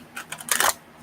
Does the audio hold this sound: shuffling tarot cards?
yes